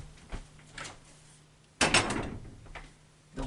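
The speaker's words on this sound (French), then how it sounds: "je vais couper pour aller fermer ma porte." A door in a home is shut with one solid thud and brief rattle, near and clear, framed by a few softer knocks and shuffles before and after.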